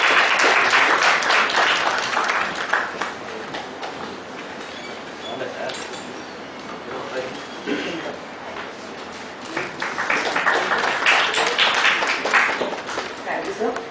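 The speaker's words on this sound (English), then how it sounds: "Please give a big round of applause for our speaker today." Audience applause at a seminar on GST export and import provisions, a broad wash of clapping that swells at the start, eases in the middle and rises again toward the end, with talk running underneath.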